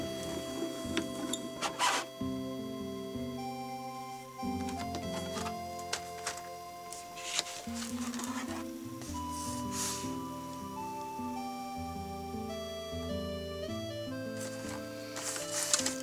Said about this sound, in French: Il ne me reste plus qu'à tourner la manivelle